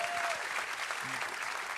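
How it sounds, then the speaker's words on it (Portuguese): A church congregation at a Sunday service applauds together, a sustained, fairly soft wash of many hands clapping, with a brief tonal sound briefly rising above it. "Aplauda com vontade."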